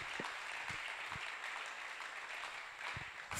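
A congregation applauding the Lord during a church service: sustained, fairly soft clapping from a crowd with a few louder individual claps, continuous throughout.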